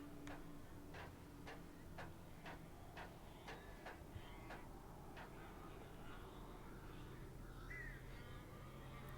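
Crows caw repeatedly in the Alan Wake video game, a series of about ten sharp calls spaced through a quiet, faint ambient background.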